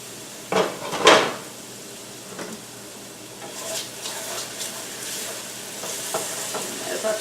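Potatoes with onion and garlic sizzle steadily in a pot for vegan breakfast potatoes, a constant frying hiss broken early by a couple of loud scraping stirs and later by lighter utensil clinks.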